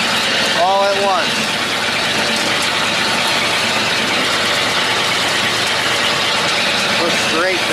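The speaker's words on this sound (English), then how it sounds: "The biggest thing with doing this with an auger wagon is let it mix." A farm auger wagon's engine runs steadily while mixing cattle feed, a constant mechanical drone with people talking over it and a brief squealing tone near the start.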